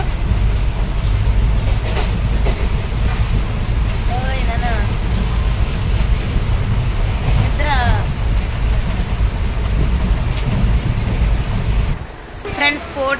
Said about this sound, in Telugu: స్టేషన్ కి అయితే వచ్చేసాము. ట్రైన్ లో ఎవ్వరు లేరనమాట.